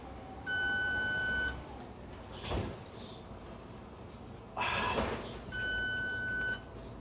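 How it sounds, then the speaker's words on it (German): A bus sounds a repeated electronic warning beep because it is being driven without a driver card, in two steady tone bursts of about a second each, with brief clunks and rustles in between. "Der piepst jetzt, weil wir jetzt ja ohne Fahrerkarte"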